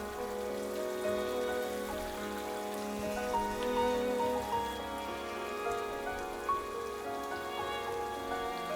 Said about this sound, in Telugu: ఇలా పచ్చడిని బాగా ఉడకనివ్వండి.